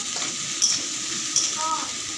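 Jute leaves frying in a pan for a jute-leaf curry, a steady close hiss and sizzle throughout with a couple of brief scraping stirs, no talk.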